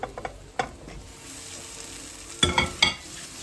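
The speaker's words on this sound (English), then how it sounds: "Combine all the spices with the onions and the tomato paste, and we'll cook these for about 5 minutes till they release the oil again." Spices stirred into onions and tomato paste frying in a pot for a chicken aloo curry, with a soft steady sizzle and a few distinct scraping stir strokes, close up with no talking.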